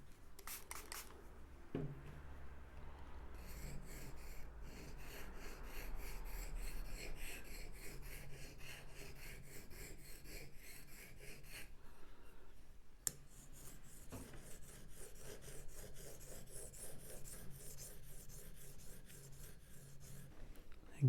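Quiet, repeated scraping strokes of a woodcarving gouge worked back and forth on a 1000 grit sharpening stone, close and steady, with a brief click partway through.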